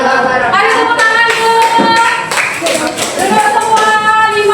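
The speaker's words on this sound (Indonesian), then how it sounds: "Ayo tepuk tangan" A classroom of students claps together at the end of a school presentation on intelligent and non-intelligent machines, a few seconds of brisk, dense clapping with voices mixed in.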